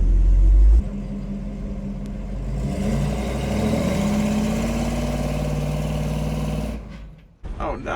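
A heavily weighted ramp truck revs hard during an attempted burnout, a loud steady engine roar rising over several seconds, then cutting out abruptly as it stalls near the end.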